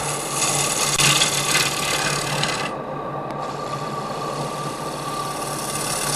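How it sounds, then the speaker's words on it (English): A woodturning gouge cuts wood on a lathe, giving a steady, close rasping scrape that runs continuously, easing briefly partway through before resuming at a similar level. "I'm cutting with the wrong side of the, quote, wrong side of the gouge there."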